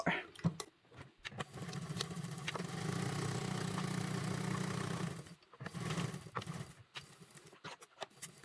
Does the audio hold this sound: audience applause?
no